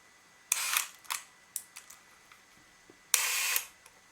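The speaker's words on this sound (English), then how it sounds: "there is still life in this winder" A Leica MOOLY motor winder for Leica IIIa and IIIb cameras, with a broken spring, whirs in short mechanical bursts: a longer run, a few brief clicks and ticks, then another long whirring run, close and fairly quiet.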